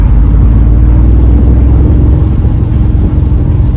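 A steady, loud engine drone from a 2025 Mercedes-Benz CLE 450 Cabriolet in sport mode on the highway, played through its speakers, with a deep rumble and wind buffeting, holding a constant pitch throughout.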